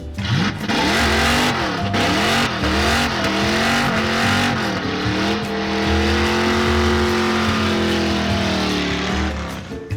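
A cheap Mustang does a donut, its engine revving hard and steady while the tires squeal in long, wavering howls, loud and close, for the full stretch with no talk.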